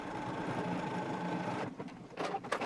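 A sewing machine stitches straight across the shirred back of a dress in a steady, quiet whirring run, then stops and gives a few short bursts.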